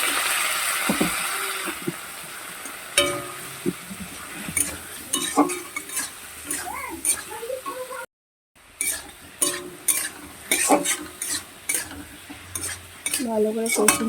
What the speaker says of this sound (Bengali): মশলাটা যাতে পুরো নিয়ে সামান্য জল দিয়ে দিচ্ছি